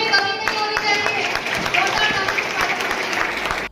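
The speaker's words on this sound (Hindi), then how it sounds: "तालियों में कमी नहीं होनी चाहिए" Clapping from an audience at an award ceremony holds steady and full, with individual claps standing out near the front, before it cuts off abruptly at the end.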